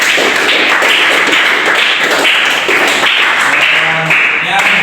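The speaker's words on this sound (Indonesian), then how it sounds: "tepuk tangan buat Mas Rafasya" Schoolchildren in a classroom applaud a student, loud, close, continuous clapping and tapping that fills the room without pause.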